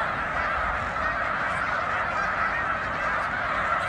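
A flock of snow geese in autumn, a dense continuous chorus of overlapping honks from many birds, steady and moderately loud throughout with no talk.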